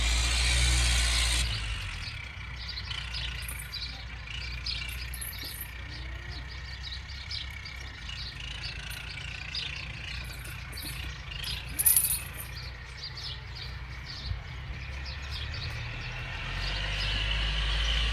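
A farm tractor engine drones steadily through the scene at a moderate distance, its low rumble continuous under light outdoor background noise, with a louder burst at the start and a slight swell near the end.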